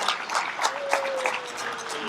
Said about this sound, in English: Let's give another round of applause for Molly.